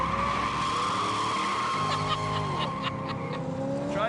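A Corvette's tires skid and squeal in a long continuous screech under hard braking, with engine noise beneath it and no talk.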